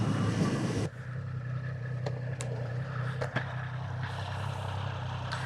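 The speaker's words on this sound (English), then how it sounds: "this stock exhaust sounds really good as well" A steady, low engine drone from the stock exhaust of a 2023 Triumph Street Triple 765 RS motorcycle, continuous and fairly close, with a few brief sharp clicks over the top.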